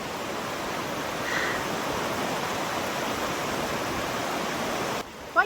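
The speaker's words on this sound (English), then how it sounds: "So this is the river that's flowed really all the way along the" River along the Kancamagus Highway in New England in autumn, rushing steadily as a broad, continuous roar of flowing water, close and even throughout, with a short thump near the end.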